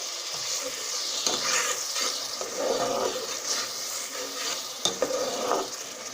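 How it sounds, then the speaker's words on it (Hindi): Masala with fresh green chillies frying in a pan, a loud continuous sizzle with stirring scrapes and a couple of sharp knocks against the pan, up close. "ये देखिए मसाला बहुत अच्छे तरीके से भून चुका है।"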